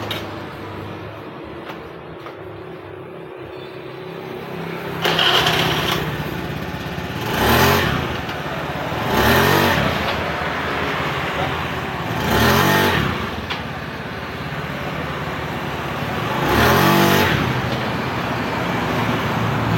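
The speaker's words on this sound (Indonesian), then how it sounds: "Kita coba tes hidupin motornya." A Honda Beat F1 scooter's engine idles up close, raised off the ground for testing, with about five sharp throttle revs rising and falling over a steady running drone.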